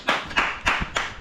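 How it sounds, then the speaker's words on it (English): Four sharp hand claps land close and alone at an even, steady pace, a short round of applause from a single clapper. "Round of applause."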